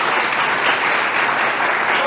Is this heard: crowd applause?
yes